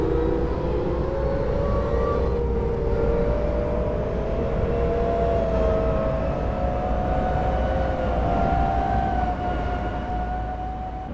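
Metro train in the OpenBVE simulator game, CoolMetro Line 15, pulling away: a steady loud motor whine rising slowly in pitch over constant rumbling running noise, continuous throughout.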